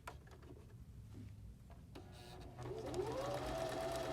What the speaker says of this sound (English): Do you see the machine going forward and reverse, forward and reverse? So it is a nice strong seam.